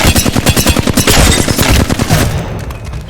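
Rapid automatic Flatline rifle fire in a first-person shooter video game while the player strafes left and right, a loud, dense burst of fast repeated shots lasting about two seconds before trailing off.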